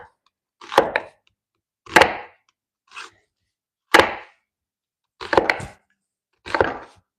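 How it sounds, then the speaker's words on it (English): Knife chopping half an onion on a cutting board, six separate close, crisp thuds spaced about a second apart with silence between, no talk. "Now, I'm going to cut up, I'm going to cut up this quarter onion. I'm sorry, half an onion."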